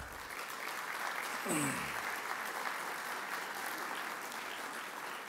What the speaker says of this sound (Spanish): Por favor, un aplauso para estos